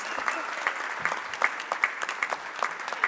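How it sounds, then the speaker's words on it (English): Crowd at an award and scholarship fundraising event giving sponsors a lively round of applause, dense clapping with scattered louder claps, steady for the whole stretch. "let's give them a big round of applause for our major sponsors and institutional sponsors"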